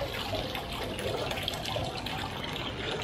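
Liquid plating solution drains and trickles steadily from a chrome-plating frame back into a tank, a continuous close watery gush with no talk.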